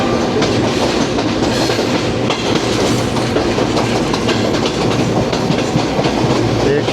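A Subak Raftar railcar runs on the rails between Rawalpindi and Lahore, giving a steady, loud rumble with continuous clickety-clack of the wheels heard from on board.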